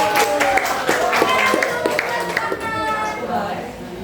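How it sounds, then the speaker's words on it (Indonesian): Students in a classroom clap together for a classmate, a short burst of hand claps mixed with voices talking, fading as a lesson resumes. "tepuk tangan dulu untuk Adit."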